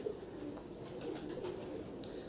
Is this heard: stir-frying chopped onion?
no